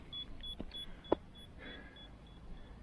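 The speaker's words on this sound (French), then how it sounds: "vous entendez sûrement le bip bip." A digital level gives a quiet, evenly spaced series of short, high electronic beeps repeating steadily, with a sharp click partway through.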